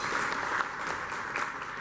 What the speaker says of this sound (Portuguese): também uma salva de palmas